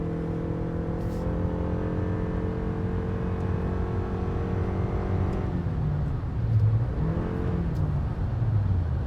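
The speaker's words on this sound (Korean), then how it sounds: "63km 정도 속도에서 엔진이 붙는 것 같습니다" Toyota Crown hybrid accelerating on the road, a rising engine hum building under cabin noise, then easing off as the note falls away, fairly quiet overall.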